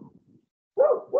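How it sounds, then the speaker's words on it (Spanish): A dog barks during an online book club meeting, a faint muffled sound at first, then two louder, close barks near the end, heard through an open microphone. "se escucha un ladrido de un perro"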